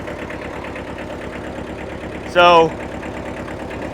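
A 1974 Kubota tractor engine idles steadily with a low, even chugging throughout, and a brief voice cuts in near the end.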